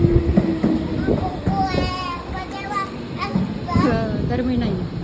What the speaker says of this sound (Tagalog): Ayan, darating yung sasakyan namin na tren.